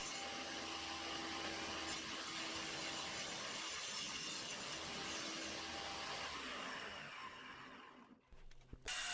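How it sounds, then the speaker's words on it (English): A saw rips through a full 4x8 plywood sheet with a loud, steady broadband roar that runs for several seconds, then winds down and cuts off near the end. "Next, I cut the full 4x8 sheet into two 4x4 sheets for easier cutting later."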